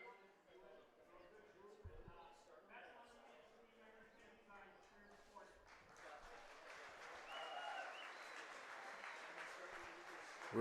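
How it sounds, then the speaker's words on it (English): A baseball crowd at a Brantford Red Sox and London Majors game applauds a player, with scattered claps growing into fuller, steady applause under a commentator's voice. "gets a good hand from the crowd here"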